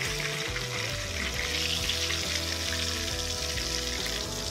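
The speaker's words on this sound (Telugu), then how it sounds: "మొత్తం మనకి ఫిష్ అంతా నీట్గా ఫ్రై అయిపోయింది" Fish fries in a pan with a steady, even sizzle and crackle of hot oil, close and continuous throughout with no talking.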